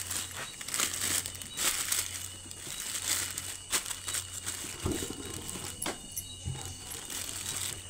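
A double-layer plastic sheet crinkles and crackles over a sambrani cup mould, close and fairly quiet, with irregular sharp rustles and a few louder snaps.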